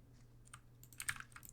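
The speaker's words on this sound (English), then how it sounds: "this keyboard is fucking loud" A loud computer keyboard clacking in a quick, uneven burst of keystrokes, close up and alone with no voices.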